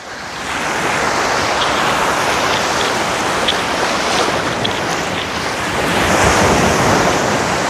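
Sea waves break on the shore in a loud, continuous roar of surf with wind buffeting the microphone and no voices.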